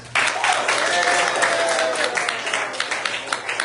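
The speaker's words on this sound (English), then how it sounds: "give him an extra round of applause" A jazz concert audience breaks into applause after a saxophone, soprano and clarinet player is introduced, a dense burst of clapping that starts suddenly and carries on strongly before slowly thinning.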